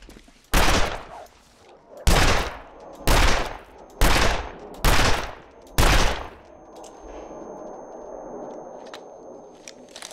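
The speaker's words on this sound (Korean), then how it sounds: "내 총소리에 지금 울리고 있는 거야?" Six loud, sharp video game gunshot bursts ring out about a second apart, each with a short echoing tail, followed by a low lingering ambient hum.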